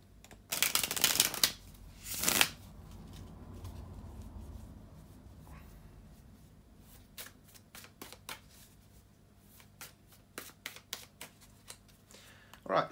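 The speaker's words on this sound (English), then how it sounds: "just bear with me a couple of seconds, guys, to shuffle the tarot cards" Tarot cards are shuffled by hand at close range, starting with two loud riffles and then giving way to a run of soft, quick card taps and slides.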